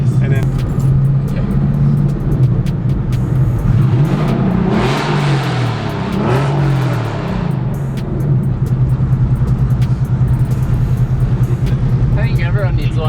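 A Porsche 964 flat-six revving hard, heard from outside with a loud, rasping note that swells and falls in a rising run-up and then holds a sustained drone close by, with people talking over it at points.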